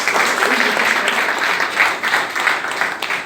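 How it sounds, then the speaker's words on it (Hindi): A meeting audience applauds a colleague named as a branch's top performer, steady dense clapping from many hands filling the room continuously for a few seconds, fairly loud and close, with no voices over it. "दिनेश मांझारे हैं, उनके लिए भी ताली बजाएं।"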